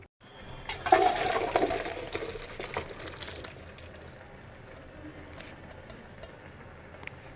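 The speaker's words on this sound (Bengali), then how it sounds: "এটাকে আমি জলটাকে ছেঁকে নেব।" Hot water from boiled vegetables pours out in a strong gushing splash for a few seconds, close by, then eases into a softer trickle and drip as the straining finishes.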